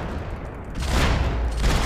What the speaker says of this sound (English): let's shoot the guy with the shotgun first.